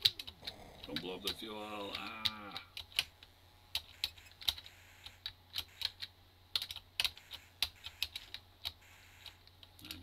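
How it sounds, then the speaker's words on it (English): Fingers hammer computer keyboard keys while playing the Commodore 64 game Thrust: sharp, irregular clacks in quick clusters, close and crisp, with someone briefly speaking near the start. "my fingers hammering away on the keys aren't helping the sounds of this any"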